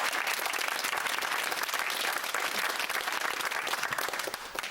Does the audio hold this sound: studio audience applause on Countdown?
yes